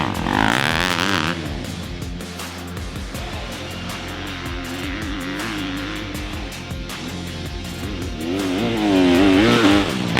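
Yamaha YZ250FX dirt bike ridden through trees, engine revving up and down in waves as the rider shifts and accelerates, close and loud, swelling louder near the end.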